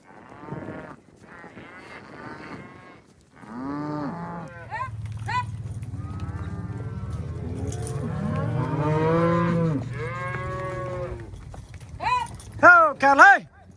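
Cattle moo repeatedly, some near and some further off, while being herded into a corral for calf branding on a desert ranch, with people shouting between the calls.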